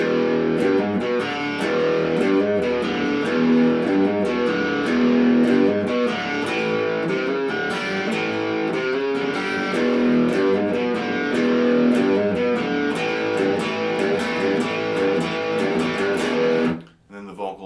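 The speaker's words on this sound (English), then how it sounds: "it pushes the output of the pickup through the amplifier, and it creates distortion" A distorted electric guitar riff, pickup pushed through the amplifier, plays loudly and steadily, repeating its pattern before cutting off abruptly at the end.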